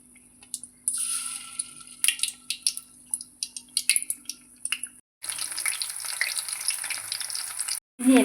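Batter-dipped green chillies for bajji dropped into hot oil: intermittent crackles and pops at first, then a loud, steady sizzle of frying that cuts out briefly near the end.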